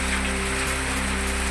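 Unseasonal rain with hail pours down around Mozari village in Amravati district, Maharashtra, a dense, steady hiss that runs loud and unbroken throughout with a faint low hum beneath.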